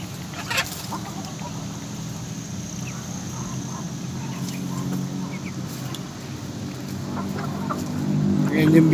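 Chickens clucking around a house under construction in the Philippines, faint and scattered over a steady low hum of background noise, growing slightly louder toward the end.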